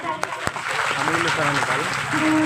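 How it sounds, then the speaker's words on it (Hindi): Crowd applause for a spiritual leader at a devotional gathering in Gwalior, a steady dense wash of clapping with voices and cheers mixed in throughout. "हमारे महाराज जी के लिए एक बार जोरदार तालियां"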